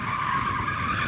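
Tyres on a Mercedes-AMG GT 63S 4-Door in rear-drive drift mode squeal loudly and steadily in a sustained skid, with engine roar underneath, for about a second.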